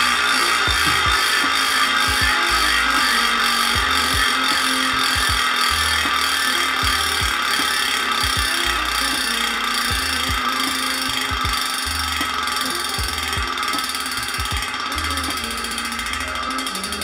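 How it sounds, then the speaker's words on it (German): Instant Drive 360 bicycle freewheel hub spins and ratchets with a steady, dense, loud buzzing click that stays constant and close throughout, broken by occasional low knocks, with no talking. "ist das nämlich der Instant Drive 360 Freilauf"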